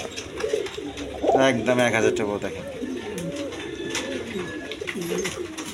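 A pair of big German Beauty pigeons coos in warbling bursts close by, while someone talks over them.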